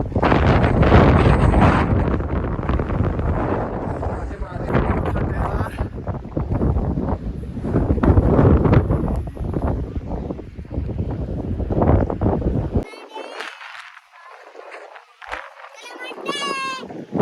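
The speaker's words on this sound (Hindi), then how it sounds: "तेज हवा चल रही है यार।" Strong wind buffets a microphone outdoors in the hills around Kalam in Swat, producing heavy, gusty roaring rumble that suddenly drops away near the end, leaving fainter wind and high chirping tones.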